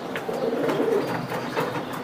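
A female racing pigeon coos in soft, low, repeated murmurs, held close by and fairly quiet, with no voices over it.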